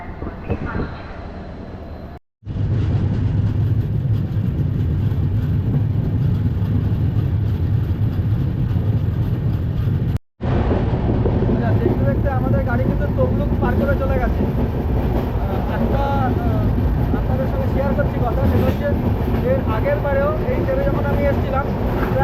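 The Tamralipta Express, running to Digha, rumbles loudly and continuously from inside the carriage, a dense rolling roar with faint rhythmic rail clatter, broken by two brief dropouts; voices murmur faintly in the carriage.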